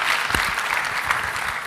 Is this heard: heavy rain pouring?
no